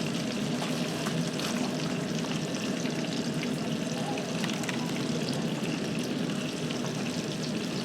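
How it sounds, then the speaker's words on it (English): Onions dropped into a hot pan sizzle and fry in a steady, dense crackle that holds unbroken and fairly loud, with no talking. "And now we're going to add the rest of those onions"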